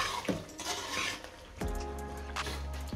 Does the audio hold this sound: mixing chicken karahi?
yes